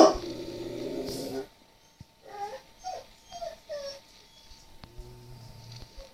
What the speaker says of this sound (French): Désolé, on entend mon chien.